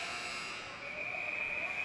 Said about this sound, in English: buzzer on the play.